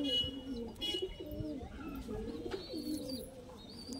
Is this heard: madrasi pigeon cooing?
yes